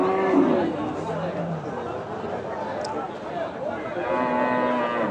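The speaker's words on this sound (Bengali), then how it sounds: "দুটি এখানে বড় আকার একটি ষাঁড় গরু রয়েছে মাংসের জন্য" Large beef bulls at a livestock market low and moo repeatedly, with the calls carrying over a steady background of crowd chatter and market bustle.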